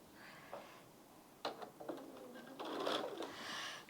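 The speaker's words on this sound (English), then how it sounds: "sewing our 1/4-inch seam" A home sewing machine stitches a quarter-inch seam through a quilt spacer strip, giving faint, quiet bursts of rapid mechanical whirring in short runs separated by brief pauses.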